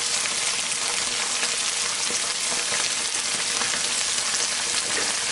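A sauce of ketchup, brown sugar and honey sizzles hard in a hot pan for a Chinese sesame honey chicken, a dense, continuous crackling hiss up close with no voices.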